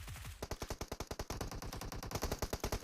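Rapid bursts of automatic gunfire in a PUBG Mobile pro league match: loud, sharp shots in quick succession throughout, with no talk over them.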